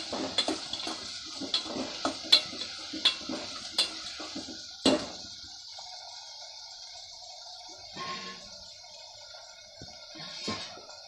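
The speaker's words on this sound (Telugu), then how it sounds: "మళ్ళీ ఒకసారి మిక్స్ చేసుకుని" A spoon stirring a ladies finger and tomato curry in a metal pan, with a run of sharp rhythmic clinks and scrapes, then a louder knock and quieter scattered taps afterward, close by.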